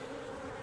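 Honeybees buzzing close around an open hive in Newfoundland, a dense continuous drone in one brief burst with no voices.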